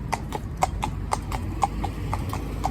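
A fell pony's hooves clip-clopping at a steady walking rhythm on a hard surface, close and distinct, over a low rumbling background.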